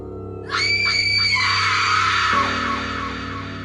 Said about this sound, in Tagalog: Naglabas siya ng isang nakakabinging sigaw.